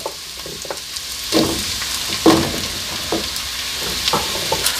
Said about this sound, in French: Mes oignons légèrement dorés, je viens maintenant ajouter mes morceaux de courge dans ma gamelle